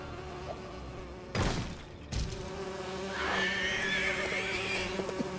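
Buzzing bees swarm in the LEGO Lord of the Rings video game, a sustained insect drone with a couple of sharp bursts and a rising whine near the end, no talking.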